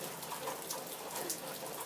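Steady rain patters continuously, a dense, even wash of drops with no voices.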